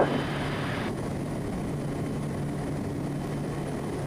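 A Twin Otter propeller plane lifts off on a takeoff run from a rural airstrip, its engines roaring steadily and loudly close by, with a brief brighter rush at the start that quickly settles into a constant drone.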